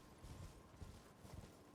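Horse hooves gallop in a steady, rapid rhythm while riding through the Elden Ring game world, faint and continuous with no one talking over them.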